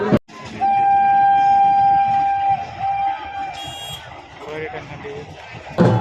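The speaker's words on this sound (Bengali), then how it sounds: "এখন কিন্তু আমার ট্রেন চলে আসছে" A train rumbles close by at Kaliyaganj with a long, steady horn tone and clattering railcars, loud and continuous.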